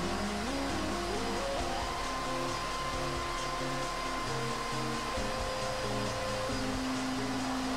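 Hair dryer blowing steadily on freshly permed hair in a salon, a continuous whooshing drone with a shifting motor tone that runs unbroken for the whole stretch, fairly close.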